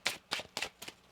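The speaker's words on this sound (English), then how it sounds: "One more shuffle." A deck of tarot cards is shuffled in four quick riffling bursts, close and fairly quiet, with short pauses between each pass and no talking.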